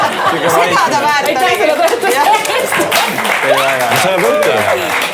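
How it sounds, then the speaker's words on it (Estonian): Comedy show audience applauding in a hall, with steady clapping mixed with crowd chatter and a few chuckles, fairly loud and continuous throughout. "See üks aplaus oli täpselt see, mis see väärt oli."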